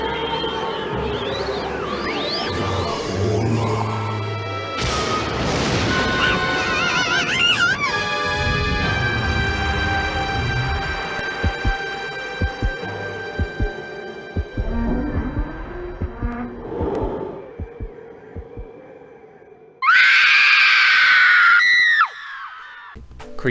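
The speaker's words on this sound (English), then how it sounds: "Creepy ghosts, a slowly opening crypt coffin, and a blood-curdling scream" Spot Goes to Hollywood horror cutscene in a crypt: eerie, sustained ghostly tones and rumbling as a coffin slowly opens, then a sudden, loud, piercing scream lasting a couple of seconds near the end.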